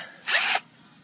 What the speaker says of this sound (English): we're just drilling a hole through the metal tab